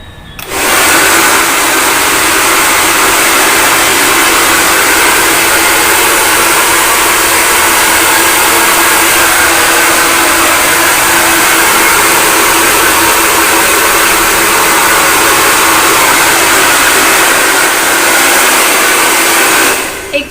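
Handheld hair dryer blowing on hair during a hair spa treatment, a loud, steady whooshing roar that runs continuously for about twenty seconds with no talking.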